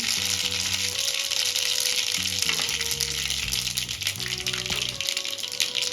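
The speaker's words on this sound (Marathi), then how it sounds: "मोहरी इथे छान तळतळली" Mustard seeds and cumin frying in leftover peanut oil in a steel pan, a steady close sizzle with crackling spatter running throughout, with light background music behind it.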